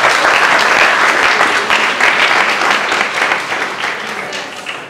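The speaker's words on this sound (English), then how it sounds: "Give yourself a huge round of applause." An audience in a university lecture hall breaks into a loud, dense round of applause that stays strong, then gradually thins and fades toward the end.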